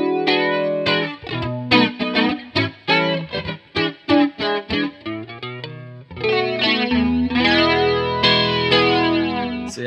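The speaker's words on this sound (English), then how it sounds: "And this is with the flanger on." Electric guitar played clean through a Boss BF-2 flanger pedal with all knobs at noon, giving a sweeping, swirling jet-like shimmer; a run of separate plucked notes and chords, then sustained ringing chords.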